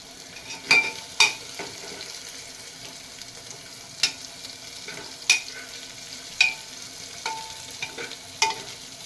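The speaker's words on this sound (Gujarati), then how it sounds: "બે ચમચી ડુંગળી ઉમેરીશું એ ગુલાબી થાય ત્યાં સુધી આપણે એને સાંકળીશું" Chopped onion sautéing in a pan, a soft continuous sizzle punctuated by regular sharp clinks and scrapes of a spoon stirring.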